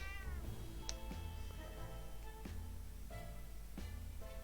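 A cat meows repeatedly in drawn-out, wavering cries over a steady, loud background hum, the calls rising and falling several times.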